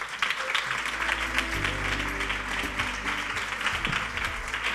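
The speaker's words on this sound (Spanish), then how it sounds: "Un aplauso para ellos." An audience applauds panel guests as they come up for a discussion event, giving steady, dense clapping for the whole stretch, with faint voices mixed underneath.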